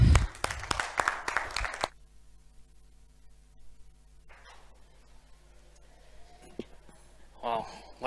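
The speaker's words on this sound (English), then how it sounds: "Round of applause." A short burst of dense clapping and applause for about two seconds, then it cuts off into a quiet hum with faint distant noises.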